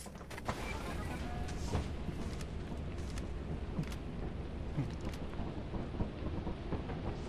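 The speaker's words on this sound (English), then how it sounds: "It's storming." Steady heavy rain pours throughout with a low rumbling roar of thunder underneath, dense and continuous, in the video game Lethal Company.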